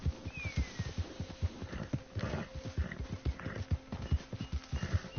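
Horse hooves clip-clop in a steady trotting rhythm in Red Dead Redemption II, close and distinct, with faint ambient game sounds behind them and no voices.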